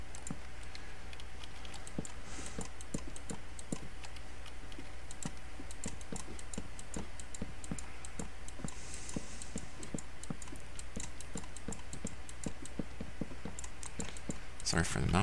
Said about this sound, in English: Sorry for the mouse clicking.